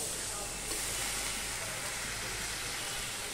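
Water poured into a frying spice paste of chilli powder, tomato and onion for a pabda fish curry sets off a loud, steady hiss and sizzle for a few seconds, close by.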